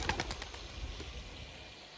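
Pigeons gather at a small water spot to drink in the warm season, giving faint soft coos and brief wing flutters at the start against a quiet, steady background.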